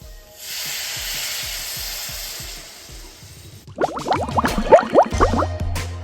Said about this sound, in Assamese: অলপমান কুহুমীয়া পানী ঢালি দিম